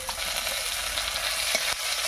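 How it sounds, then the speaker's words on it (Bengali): Dry red chillies torn in half, whole cumin seeds and a bay leaf sizzle in hot oil and ghee as a tempering, a steady dense crackle close by with one or two sharper pops. "বেশ কিছুক্ষণ ফোড়নটা ভেজে নিয়েছি।"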